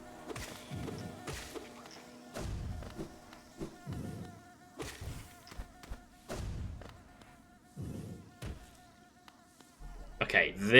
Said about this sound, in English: Past the bees.